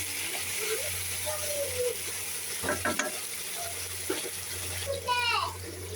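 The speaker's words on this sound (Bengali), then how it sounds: "লবণ দিয়ে একটু নাড়তে হবে।" Okra being stirred with salt in a frying pan, a close scraping and sizzle that comes and goes with a few sharper clatters from the spoon, set against a steady low hum and a voice speaking briefly.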